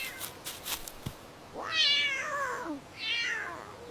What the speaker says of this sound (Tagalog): Unahin natin ang pusa.